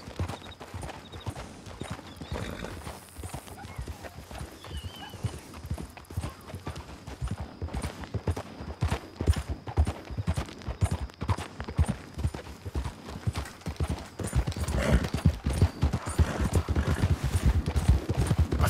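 A horse's hooves clip-clop in a steady rhythmic gait in the Red Dead Redemption 2 video game, close and gradually growing louder over nearly twenty seconds, with a brief whinny early on.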